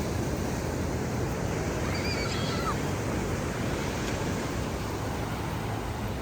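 Ocean waves wash steadily onto a shore in a continuous broadband roar with no distinct breaks, and a faint, brief bird-like call rises briefly partway through.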